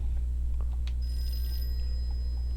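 An electronic telephone ring in a Call of Cthulhu game, a thin high tone sounding over a steady low hum, fairly faint and alone.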